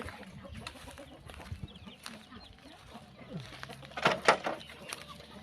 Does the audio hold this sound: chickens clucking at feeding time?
yes